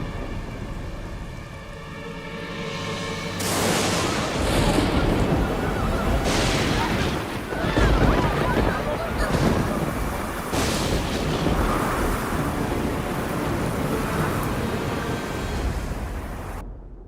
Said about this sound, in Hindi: ये तूफान तब तक थमना नहीं चाहिए जब तक वृंदावन पूरी तरह पानी में डूब न जाए